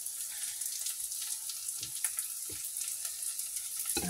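Garlic fries in a pan beside cooking rice during preparation of a pollock fish dish. It makes a soft, continuous sizzle with a few faint clicks and knocks, and no voices.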